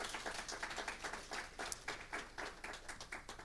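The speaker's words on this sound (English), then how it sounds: "Give God a hand clap." A church congregation at a Sunday evening service gives a steady round of hand clapping, many hands in a dense, continuous patter heard from a distance at low level.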